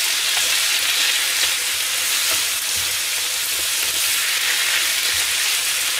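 A stew with onions cooks in a hot pot, giving a loud, steady sizzling and bubbling hiss that fills the whole stretch without pause.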